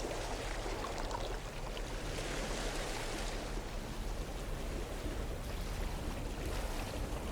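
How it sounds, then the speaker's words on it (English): Ocean waves in the No Man's Sky video game form a steady, dense wash of surf and water noise, continuous and moderately loud throughout with no talk. "I like the noises though, the sounds are good, the ocean noises, that is relaxing."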